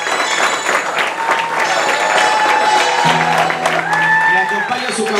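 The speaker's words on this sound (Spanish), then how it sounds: "Fuerte el aplauso, por favor. Que no pare el aplauso." Guests clap steadily through a crowded hall at a quinceañera entrance, with a steady wash of applause and cheering while a voice speaks over a sound system.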